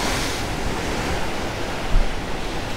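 Stormy Black Sea waves crashing on a shore near Cape Fiolent, a loud, continuous roaring surf mixed with wind buffeting the microphone, one heavier surge near the end.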